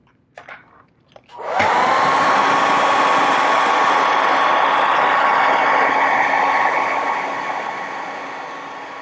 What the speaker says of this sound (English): Hit with the hairdryer a little bit